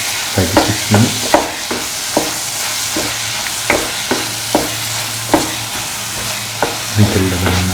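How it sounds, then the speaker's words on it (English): Bananas, coconut and vermicelli fry in a pan with a loud, continuous sizzle, while a spatula scrapes and knocks against the pan in regular strokes, close up and with no talking. "Keep on sauteing for 5 to 6 minutes."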